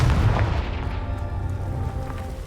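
A Confringo spell explosion in the Hogwarts Legacy video game, a loud booming blast with a deep rumbling tail that stays heavy and sustained throughout, with no voices.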